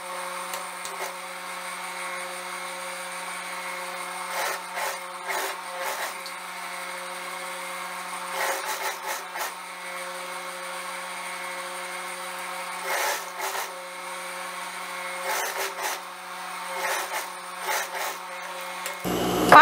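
A sewing machine topstitches a seam on a skirt with pockets and ruffles, its steady motor hum running throughout with recurring bursts of faster stitching chatter, close and alone.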